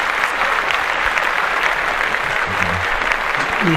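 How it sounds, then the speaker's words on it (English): Steady applause from a group of people in a podcast studio, continuous and close throughout, with faint voices mixed in. "Let's clap that up."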